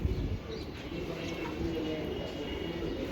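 Racing pigeons coo softly in a loft, low murmuring calls over a steady hum of background noise, with faint chirps and indistinct voices nearby.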